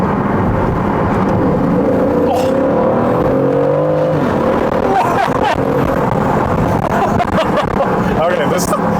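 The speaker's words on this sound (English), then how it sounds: "Oh, there's that downshift. That crackle. You get the crackling going on." A 2023 Aston Martin Vantage F1 Edition accelerating hard, its engine note climbing through rising revs before a downshift sets off a run of sharp exhaust crackles and pops, loud and close, while people talk over it.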